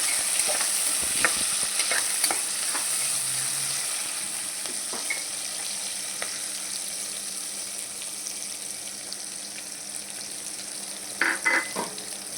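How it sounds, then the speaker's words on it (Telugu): Onions sizzling in oil for a tomato chicken pulao, a constant hiss of frying with scattered spoon clinks and a brief cluster of scraping stirs near the end, no talking. "ఆయిల్లో మంచిగా ఫ్రై అవ్వాలన్నమాట"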